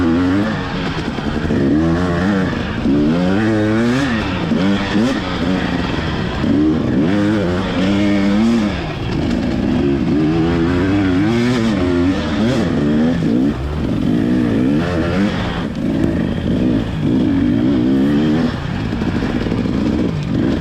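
250F dirt bikes racing at an enduro on a muddy, slick trail, engines revving and surging loud and close throughout, the pitch rising and falling with throttle changes over a continuous motor drone.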